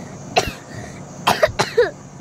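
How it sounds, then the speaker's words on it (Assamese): A person coughs up close: a single sharp cough, a pause, then three quick rasping coughs in a row, with no talk. "পুৰা কাহ হৈ গৈছে"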